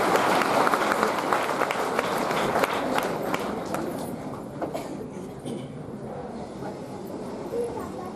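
Dense, steady applause from a large crowd at a mass Bhagavad Gita recitation gathering in Vikarabad, loud at first and thinning slightly toward the end.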